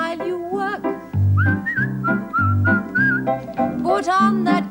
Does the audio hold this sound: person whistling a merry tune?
yes